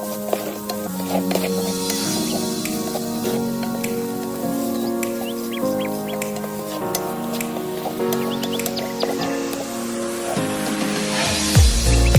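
Potatoes and carrots with rosemary and paprika sizzle in a pan as they sauté. The steady frying hiss runs throughout, with occasional scrapes and clinks of stirring close by and no voice.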